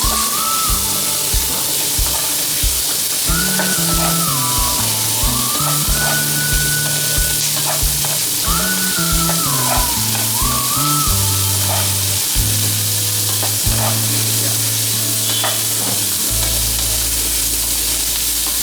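Onions shallow frying in a pan for a murrel fish curry, a loud, continuous sizzle close up that runs the whole time beneath background music.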